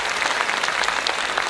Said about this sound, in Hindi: तालियां बजा दीजिए आप लोग